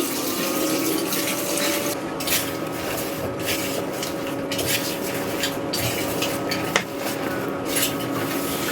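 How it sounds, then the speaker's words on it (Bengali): Dishes are washed under running water in a home kitchen, a steady loud stream hissing throughout with faint clinks and one brief knock. "বড় বউ ওদিকে থালাবাটিগুলো ধুয়ে নিচ্ছে"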